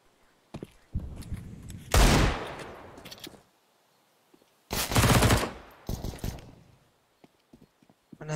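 MP9 bursts ring out in Counter-Strike on the Inferno map: several separate clusters of rapid gunfire with short silent gaps between them, plus faint footsteps.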